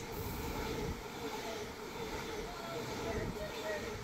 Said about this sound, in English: there's a train coming, I wonder what it will be. That's right, it's another 395.